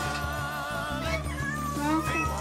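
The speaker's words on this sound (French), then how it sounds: "Il y a des chats ici?" Several hungry cats meowing near each other in La Réunion, their overlapping, wavering cries going on steadily and close by.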